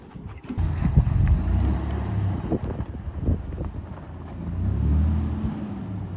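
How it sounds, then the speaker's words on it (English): Pickup truck driving through deep snow beside a campervan stuck in a snowbank, its engine a low steady rumble with wind noise buffeting the microphone, swelling and easing over several seconds. "Let me move the truck."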